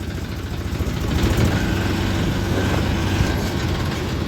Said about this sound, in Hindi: ये मील का ट्रैक्टर ट्रॉली कहाँ घुसा रहा है? ये तो ठेकेदार का 395 DI टर्बो।